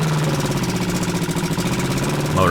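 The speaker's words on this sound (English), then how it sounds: "motor fires right up." A Glastron boat's outboard motor runs steadily just after starting, with a loud, even mid-pitched drone and a fast rhythmic throb, close by and alone.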